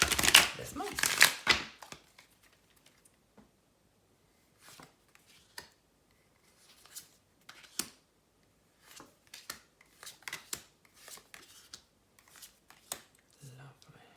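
Tarot cards are shuffled in quick riffling bursts, loud at first, then lighter, scattered flicks and taps with pauses, close by and without talk.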